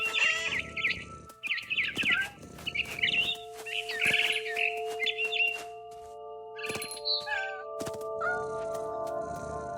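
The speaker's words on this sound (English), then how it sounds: "Then I heard chirping outside my window. It was a barn swallow going back to her nest." A barn swallow chirps in What Remains of Edith Finch, sending bursts of bright, close chirps and twitters over steady tonal game ambience, busiest in the first half and then tapering off.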